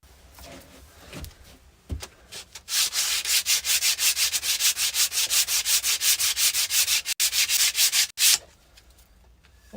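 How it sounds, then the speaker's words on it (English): A power sander works wood for a river table, its loud whirring grind starting after a few quiet seconds and running steadily in a rapid pulsing rhythm before stopping near the end. "let's give it a whirl with the sander"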